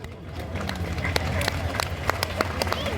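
Dense, ongoing clapping from a large devotional gathering at Bageshwar Dham, sharp individual claps rising above a steady crowd wash, with a voice speaking over it.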